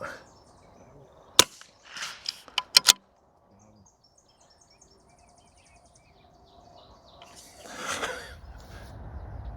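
A rifle fired at a woodchuck outdoors: a sharp, loud shot followed by a few quick clicks of the trigger and action, then quiet field ambience with faint birds and a rustling burst near the end.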